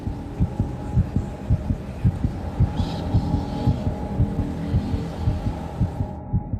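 A steady, rhythmic heartbeat thumps continuously at a moderate pace, low and muffled, over a soft background hum.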